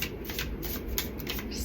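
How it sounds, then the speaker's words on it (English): A deck of cards is shuffled close up, a quick riffling flutter of paper snapping together. "I'm just going to close my eyes and shuffle"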